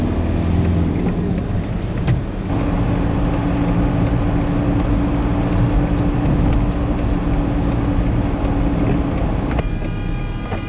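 Steady road drone of a car driving toward the Chop crossing on the Ukrainian border near Tysa, a continuous low engine and tyre rumble holding level throughout with no voices.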